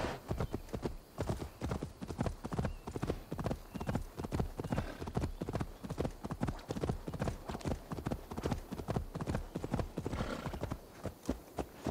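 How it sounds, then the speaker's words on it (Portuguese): Horse hooves clip-clop in a steady, even rhythm throughout, the galloping footfalls of a ridden horse in Assassin's Creed Valhalla on PS5, moderately quiet, with a brief whinny. "com essa atualização aí de 12 GB que tivemos, voltou o som do cavalo"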